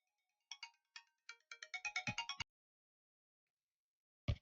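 A phone ringtone plays a quick series of bright electronic chirps that speed up into a rapid burst, stops, then returns with one short final blip after a silent gap, loud and close.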